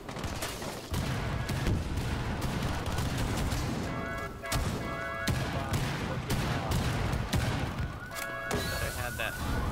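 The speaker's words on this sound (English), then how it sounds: "so many explosions" Dense bursts of gunfire and explosions from a Rainbow Six Siege match, loud and nearly continuous, with sharp cracks and booming hits layered throughout.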